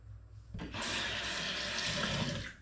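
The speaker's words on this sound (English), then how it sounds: "Get the soap off your hands." Tap water runs steadily into a sink while soap is rinsed off hands, a close, broadband splashing rush that swells after a soft start and holds to the end, with no talking.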